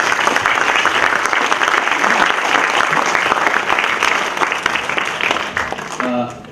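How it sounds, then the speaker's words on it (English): Loud, dense applause from a seminar audience on ecological design fills the room steadily, tapering slightly toward the end. "So perhaps we can give one more round of applause."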